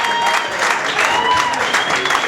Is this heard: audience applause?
yes